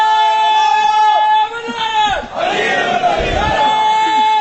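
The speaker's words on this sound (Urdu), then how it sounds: "یہ پھر لگا نعرہ" A large crowd at an Eid-e-Ghadeer religious gathering in Mughal Chak roars a religious slogan in unison, loud and sustained, with swelling massed shouts and background amplification hum.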